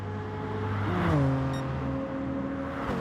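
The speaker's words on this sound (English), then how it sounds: "So Icklepants revving the nuts off that car, but it just doesn't have the grunt of the Corvette" A race car revs hard in the Infinity GT racing video game, during a manufacturer pro league race beside a Corvette. The engine note climbs and settles into a steady, close drone for about three seconds with no voices.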